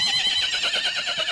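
A horse whinnies in a long, shaky neigh with a warbling pitch, loud and close, with no talk over it.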